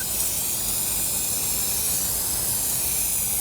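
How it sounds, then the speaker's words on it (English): Waterproofing spray hisses steadily and loudly onto a tent being sealed for winter weather, one continuous unbroken jet of spray from start to finish. "we will get on with spraying the tent"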